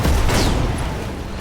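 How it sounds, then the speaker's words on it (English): A burst of explosion noise from a mech's machine gun ammunition cooking off in the RogueTech battle game: a loud broadband boom at the start, then a dense crackling rumble that stays strong and slowly eases over a second or so. "MG ammo explosion."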